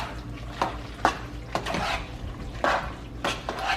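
Baked mac and cheese ingredients with salt and a little sugar are stirred together in a dish, giving several distinct spoon scrapes and clinks against the bowl at uneven intervals, close and moderately loud.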